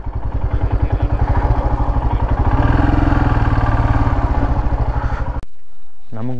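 A motorcycle engine idles loudly nearby with a fast, even putt-putt rhythm, then cuts off abruptly, leaving a quieter background and a brief voice.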